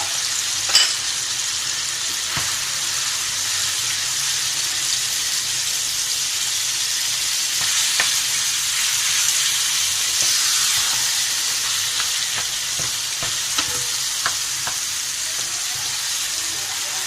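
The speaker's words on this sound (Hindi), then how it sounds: "अब अच्छी तरीके से हमने भुजिया डालने के बाद इसको भुनाई करनी है।" Radish bhujiya (mooli) sizzles and fries steadily in a pan with spices, with occasional scraping clicks and taps of a spoon stirring it, close and continuous with no talking.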